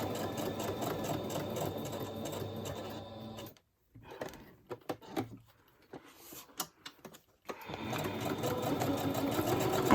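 A home sewing machine back-stitches along a pocket edge, running in a steady mechanical whir that stops for a few seconds of small clicks and handling noises before starting up again.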